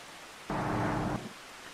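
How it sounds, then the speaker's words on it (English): Rain falls in Farming Simulator 25 on an Australian farm map, heard as a short, loud burst of even hissing rain noise under a half second long that rises suddenly and then cuts off. "It's raining."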